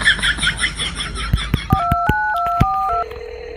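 A telephone number is dialed, a rapid series of about eight close, clear touch-tone beeps following some clicks and faint background noise.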